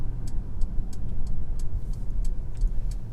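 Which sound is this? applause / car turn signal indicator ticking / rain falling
car turn signal indicator ticking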